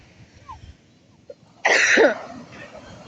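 One harsh, close cough bursts out after a quiet stretch with faint background noise, then fades into a low rasp.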